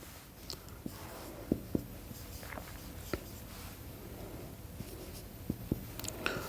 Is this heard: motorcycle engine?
no